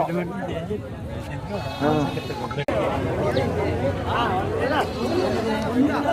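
Goats and sheep bleat repeatedly at the Guttulaputtu tribal market, wavering cries rising over a dense babble of people talking nearby.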